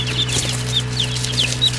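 Newly arrived baby chicks chirp in a busy cluster of short, high peeps repeating every fraction of a second, close by over a steady low electrical hum.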